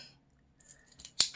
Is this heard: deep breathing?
no